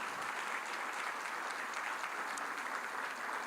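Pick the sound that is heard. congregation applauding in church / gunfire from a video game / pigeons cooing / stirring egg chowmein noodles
congregation applauding in church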